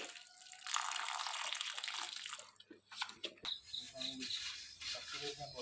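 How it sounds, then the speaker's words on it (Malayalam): Water is poured onto indoor potted plants kept above a staircase, giving a steady trickling splash that stops and restarts, with faint insect chirps in the background. "ഇതിനൊക്കെ ഇച്ചിരി വെള്ളം ഒഴിച്ചു കൊടുക്കുക"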